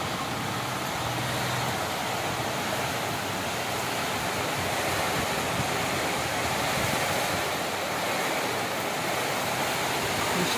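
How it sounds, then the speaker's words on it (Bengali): Heavy rain driven by strong storm wind makes a dense, unbroken rushing roar, loud and steady throughout with no pauses or voices. "প্রচণ্ড জোরে বৃষ্টি শুরু হয়ে গেল।"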